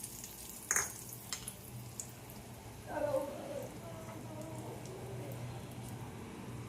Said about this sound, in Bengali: ওর মধ্যে তড়কা লাগাচ্ছি